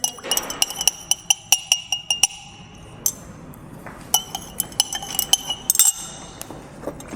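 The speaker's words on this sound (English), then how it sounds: "we can use the glass rod and shake well this solution" A glass rod clinks repeatedly against glassware while stirring an oxalic acid solution, producing a rapid series of bright, ringing taps close by that run in bursts with brief pauses.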